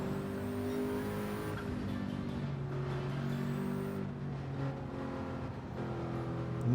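Race car engine in Gran Turismo 7 at Le Mans, heard through the Porsche Curves during a daily online race: a steady, loud droning engine note with shifting pitch as it holds through the bends, other cars close by.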